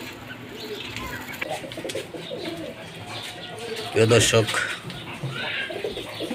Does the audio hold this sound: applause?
no